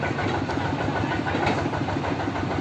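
A pile-driving machine engine runs at a steady idle at a house foundation site, a continuous dense mechanical drone, loud and close with no break.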